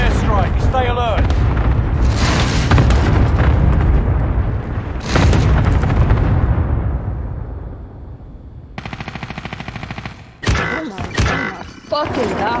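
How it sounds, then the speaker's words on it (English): Heavy precision airstrike explosions in a Call of Duty-style shooter game, several deep booms rolling one after another with long decaying rumbles, loud and close, followed by sharp bursts of gunfire near the end. "Enemy precision airstrike. Stay alert."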